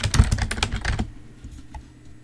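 Fingers tap rapidly on a computer keyboard, a close burst of crisp clicking keystrokes for about a second before it goes quiet.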